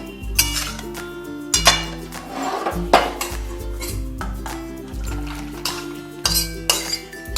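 A cooking pot of boiled food is lifted off a gas stove amid a string of bright metallic clinks and clatters of pots and utensils, coming in an uneven, repeating rhythm close by.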